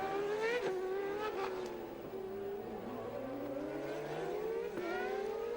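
Formula 1 cars race in 1991 as Mansell passes a Ferrari: high engine whines rise and fall through gear changes, with several cars sweeping past at a moderate distance.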